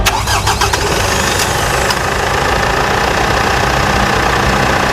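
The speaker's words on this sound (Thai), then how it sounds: "สตาร์ทติดง่ายเดี๋ยวเราไปดูเสียงเครื่องยนต์กันเลย ไปฟังกัน" A Mitsubishi Triton Plus 2.4 GLX pickup from 2021 cranks and fires with a few sharp starter bursts, then settles into a loud, steady diesel-style idle that stays close and continuous with no talking.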